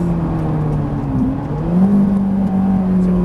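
Ferrari 458 accelerating hard on the Haut Saintonge race circuit, a loud continuous engine drone heard from inside, pitch dipping briefly then climbing again.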